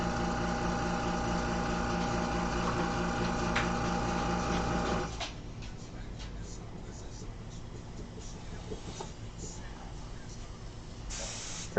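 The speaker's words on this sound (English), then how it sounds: "Airbrush was a little bit crusty." An Iwata Eclipse HVCS airbrush, somewhat crusty, sprays with a steady loud hiss that cuts off midway, leaving quieter room noise with faint clicks and movement.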